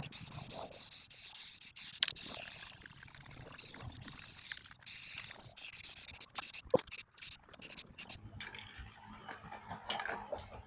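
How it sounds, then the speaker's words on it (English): Sanding paint off the metal bedside at the back end of a widebody S10 truck: steady, close abrasive rubbing and scraping with frequent short pauses and gritty bursts, running throughout without speech. "Taking the paint off a little bit of the metal bedside that kind of shows at the back end."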